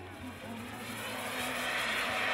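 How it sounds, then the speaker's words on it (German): A Boeing 727 airliner flies past at an airliner meeting in Oppingen, Germany, giving a steady, broad engine roar that swells slightly louder over a couple of seconds, with a low droning hum beneath. "Ich habe noch einen Airliner mit dabei, und zwar eine Boeing 727."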